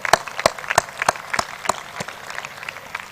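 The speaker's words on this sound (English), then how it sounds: "You deserve a round of applause." Audience applause for teachers at a school graduation ceremony: sharp, evenly spaced loud claps stand out close by over softer scattered clapping from the wider crowd.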